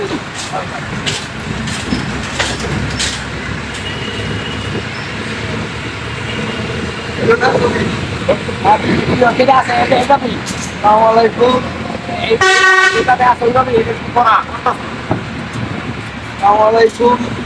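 Heavy road traffic with rumbling truck engines and a loud horn blast near the middle, shorter honks around it, a motorcycle among the trucks, and people talking throughout.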